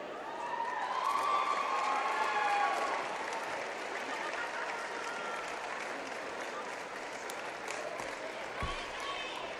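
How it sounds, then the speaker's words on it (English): A crowd in a high school basketball gym applauds for the band's seniors, with steady clapping and scattered cheers, whistles and shouting, loudest early and holding at a lower level afterward. "Ladies and gentlemen, one more big round of applause"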